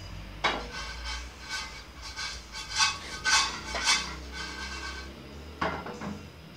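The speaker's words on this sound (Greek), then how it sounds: "ρίχνουμε το καρύδι, ανακατεύουμε ελαφρώς" Walnuts stirred in melted butter in a frying pan make scraping, clinking utensil sounds against the pan, with several louder bursts of stirring and rubbing alone, no talk.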